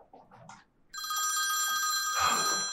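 Phone ringing indoors with a steady electronic trill that starts abruptly after a moment of quiet and continues loudly, after brief faint voices at the start.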